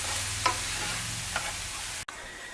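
Onions fry in a pan with a continuous sizzle and a couple of soft stirring scrapes, the sound briefly cutting out near the end before resuming.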